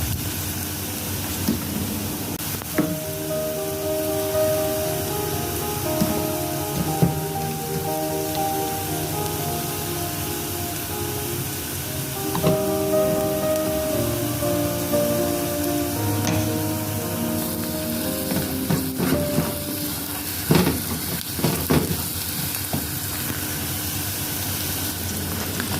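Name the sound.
onion, garlic and seafood spices frying and being stirred in a pan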